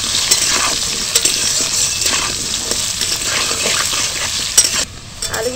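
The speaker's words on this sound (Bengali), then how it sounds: "অল্প করে একটু দিয়ে দেবো হলুদের গুঁড়ো, দিয়ে দেবো একটু লবণ, দিয়ে এটাকে একটু লাল লাল করে ভেজে নেব" Potatoes frying in oil with turmeric and salt, crackling and sizzling while a utensil stirs and scrapes the pan in uneven strokes; the sizzle briefly drops near the end.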